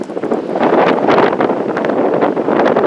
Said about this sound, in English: the wind is blowing 500 miles an hour every time you shoot outside